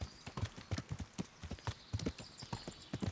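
A horse walks at an easy pace in Kingdom Come: Deliverance, its hooves striking in a regular, clear clip-clop rhythm close by, with no other sounds competing.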